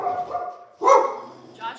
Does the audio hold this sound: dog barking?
yes